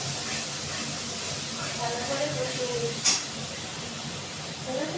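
Spice paste for a potato and pointed gourd dalna fries in hot oil with a constant, close hissing sizzle, while a faint voice speaks in the background.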